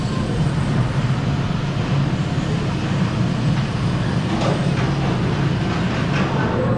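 The Kraken roller coaster train at SeaWorld Orlando rumbles steadily into its launch station, a constant low roar with faint mechanical rattling, no voices.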